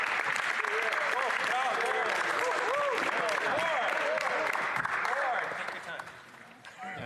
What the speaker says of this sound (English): I ask my colleagues to hold their applause to the end.